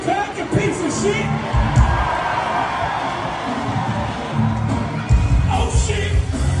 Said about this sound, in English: And for some reason people were cheering that